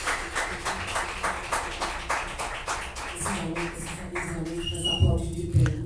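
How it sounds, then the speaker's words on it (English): Audience applause at an international stained glass seminar: rhythmic hand clapping from a group, fairly close and steady, fading toward the end as a voice begins speaking. "it's so nice to see the former students giving us a round of applause"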